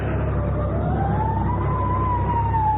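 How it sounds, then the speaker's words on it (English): In a CBS Radio Mystery Theater drama, a fire engine siren wails steadily and rises slowly in pitch over the low rumble of a vehicle, close and loud, with nobody speaking. "Fire engine?"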